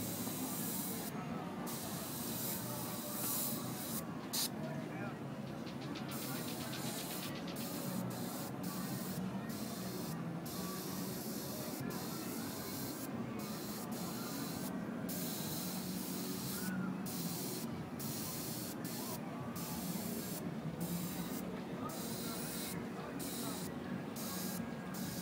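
An airbrush sprays paint while script lettering is thickened, producing a steady, close hiss that runs the whole time with brief gaps where the trigger is released, and faint talk underneath.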